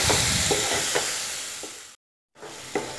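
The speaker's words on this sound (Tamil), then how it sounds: "எல்லாத்தையும் நல்லா வதக்கி விட்டுடலாம்" Spices and salt being sautéed in a pan for a spicy okra kuzhambu, a steady close sizzle with faint stirring scrapes, broken by a brief silent gap before the frying resumes, no voices.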